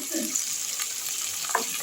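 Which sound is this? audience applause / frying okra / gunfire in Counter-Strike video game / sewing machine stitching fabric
frying okra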